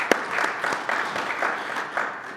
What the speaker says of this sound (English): Can we give everybody a round of applause for a great evening tonight?